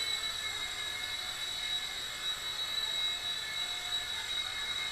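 A small Syma F4 Assault RC helicopter flies indoors, its rotors giving a constant thin, high-pitched whine and whir that holds steady and fairly faint throughout, with no talking.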